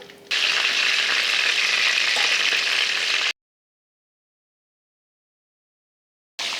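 Chicken fries in oil with a dense, even hiss, loud and close, running steadily for about three seconds, then cutting to silence before the hiss returns briefly at the end.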